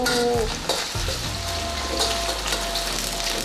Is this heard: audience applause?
no